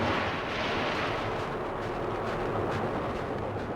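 Fighter bombers bombing and strafing a fleet anchored in a bay during the 1982 Falklands War, heard as a continuous, dense roar of blasts and rumbling explosions with no clear breaks.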